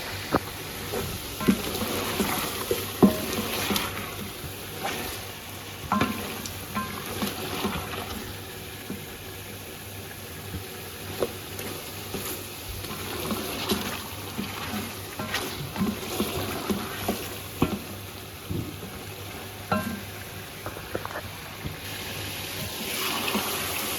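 Chicken fries in a pot with cumin, green chillies and bay leaves, giving a soft steady sizzle under scattered scraping and stirring clatter, moderately close and fairly quiet throughout.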